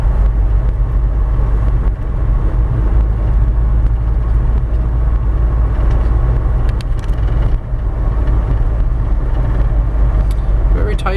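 A 1995 Nissan D21 Hardbody pickup cruises at about 2200 RPM, its engine and road noise droning loud and steady from inside the cab, with a voice talking over it for part of the time.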